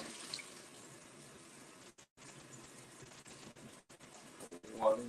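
Cold tap water runs steadily into a pot for making gravy, a continuous faint rushing with brief breaks, ending in a louder splash.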